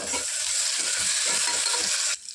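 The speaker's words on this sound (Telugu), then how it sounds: "ఇప్పుడు ఇందులో 1 టేబుల్ స్పూన్ వరకు అల్లం వెల్లుల్లి పేస్ట్ వేసుకొని పచ్చి వాసన పోయేంత వరకు బాగా ఫ్రై చేసుకోవాలి" Ginger garlic paste fries with onions in a hot pan, a loud dense sizzle with a rhythmic scraping of stirring running through it, ending abruptly.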